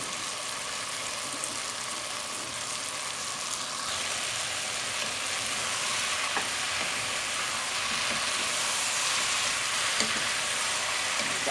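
Fresh mixed vegetables for a turli tagine fry and are stirred in a pan, a steady close sizzle that grows slightly louder over time, with a few faint scraping clicks and no voices.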